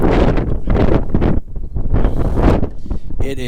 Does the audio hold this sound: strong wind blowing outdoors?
yes